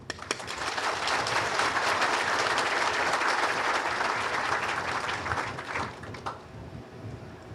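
Sustained applause from a crowd at a dam inauguration on the Rivière Grise in Haiti, honoring agronomist Jacques Thomas; steady loud clapping that fades out near the end.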